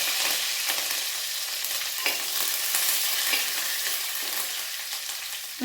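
Curry leaves hit hot oil that already holds popped mustard and fenugreek seeds for a fish pickle, giving a bright, steady sizzle with crackles and a few stirring scrapes, close and with no talking.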